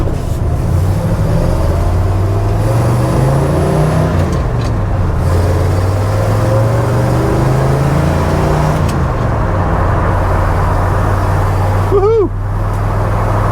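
A Ford F100 truck with wide wheels and tires accelerates onto a highway, its engine droning loud and close, rising and falling in pitch over steady road rumble, with brief voices near the end.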